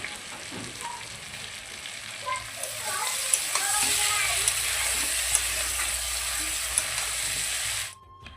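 Chicken pieces frying in hot oil in a kadai with chopped onion and two bay leaves give a loud, steady sizzle with stirring scrapes, building after the meat goes in and cutting off sharply at the end.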